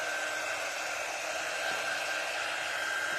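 A hair-dryer-style drying tool blows steadily on a Halloween craft piece, a loud, even rushing hiss with a constant whine running through it, heard alone without speech.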